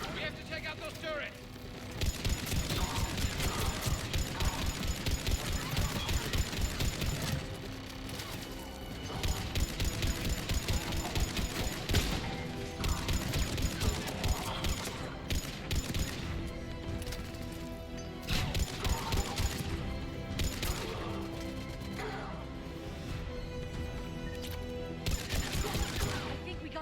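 Sustained combat from Mass Effect 3 with rapid turret gunfire, bursts of shots and impacts repeating in dense waves over nearly half a minute, loud and busy, with a voice talking over parts of it.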